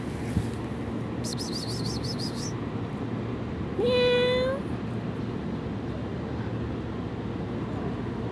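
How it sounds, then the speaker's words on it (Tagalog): A cat in a park gives one clear, rising meow over a steady outdoor background hum, with a brief bird-like chirping sound just before it. "Meow, meow."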